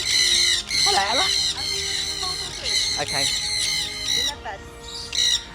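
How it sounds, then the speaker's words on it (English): An umbrella cockatoo squawks repeatedly in harsh, loud bursts close by at a safari and adventure park, with a brief spoken word in between. "It's umbrella cockatoo, sir."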